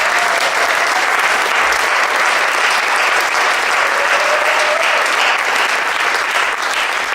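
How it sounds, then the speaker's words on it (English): Loud, dense applause fills a university jazz festival concert hall, a continuous even roar of many hands clapping from the crowd with no pause, unbroken for several seconds. "huge round of applause for all of those people just mentioned"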